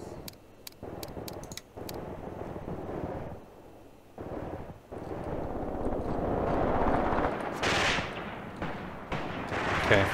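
Machine gun and artillery fire in the war game Graviteam Tactics: Mius Front, rapid bursts of sharp shots early on giving way to rolling, rumbling explosions and a loud sustained roar, moderately loud.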